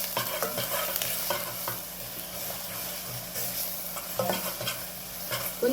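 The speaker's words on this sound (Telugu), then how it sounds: "కొంచెం మసాలా వేగాలి" Masala and chilli powder frying with onions in a pan for Punjabi chana masala, heard as a continuous sizzle with repeated scraping stirs throughout.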